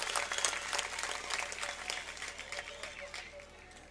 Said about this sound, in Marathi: टाळ्या वाजून त्यांचं अभिनंदन करूया